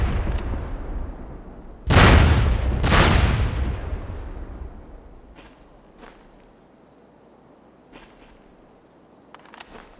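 Two heavy explosive blasts sound close together in a video game combat scene, loud booming bursts with long rumbling tails, followed by quieter scattered distant cracks and faint footsteps.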